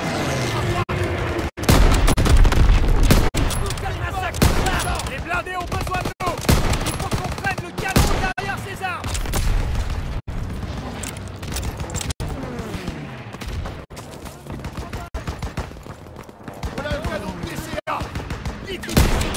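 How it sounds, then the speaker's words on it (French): Heavy wartime gunfire from Call of Duty WW2 during the Normandy landing, with rapid bursts and repeated blasts that include anti-aircraft cannon fire, loud and continuous across the battle scene under shouted voices. "Là-bas, le canon de DCA."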